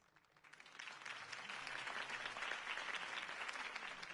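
Crowd applause following a campaign speech in the Batman Telltale video game, swelling up after a brief quiet start into sustained, fairly distant clapping with no talk.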